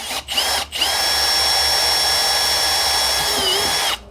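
A power drill fitted with a 1/4 inch bit bores into a boat hull during bilge pump installation, its motor whining steadily at close range for about three seconds after two brief starts.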